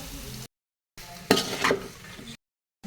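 Noodles stirred in a cooking pot with tomato and spices, giving a short scraping, sizzling burst between two dead-silent gaps, close and moderately loud with no talk.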